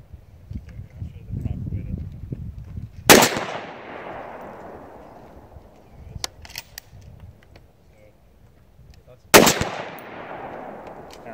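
Two sharp rifle shots at an outdoor range while zeroing a scope, each a loud crack with a long decaying echo, spaced about six seconds apart over quiet background.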